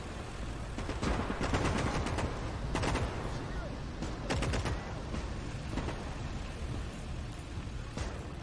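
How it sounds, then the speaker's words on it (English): Incoming artillery in the World War II strategy game Gates of Hell: Ostfront, heavy shell impacts and distant booms scattered over a constant rumble of battle and small-arms fire, with occasional voices in the mix. "Artillery coming in again."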